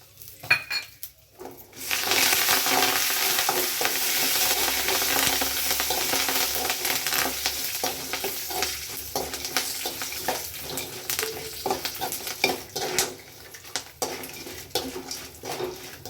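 Peanuts and curry leaves frying in oil, a steady loud sizzle with a metal spoon scraping and clinking against the pan as they are stirred, close up.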